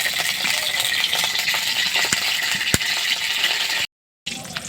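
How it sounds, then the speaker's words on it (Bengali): Leftover oil poured from a bowl into a hot kadai brings a loud, continuous sizzle, with a sharp metallic clink partway through, before the sound cuts off abruptly near the end. "তার কড়াইটা গরম হলে তেলটা দেব"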